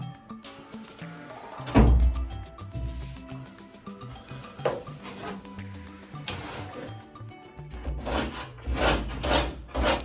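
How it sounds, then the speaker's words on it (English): Hand sanding of a shower floor panel on a boat, uneven rasping strokes with bursts of scraping and knocks, rising into a faster run of rubbing toward the end. "So need a little bit of sanding on this."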